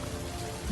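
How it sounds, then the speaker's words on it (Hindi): Rain falls in a dense, steady hiss for under a second, with a faint low rumble swelling at the end, though the thunder itself is not clearly heard. "गरजते हुए बादल और बरसती हुई बारिश"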